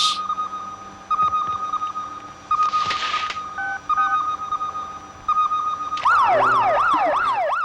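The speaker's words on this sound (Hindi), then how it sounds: "ये फायर ब्रिगेड की आवाज है।" A fire engine's electronic siren sounds loud and close, starting with steady tones and short bursts, then switching to a fast rising and falling wail that runs on without a break.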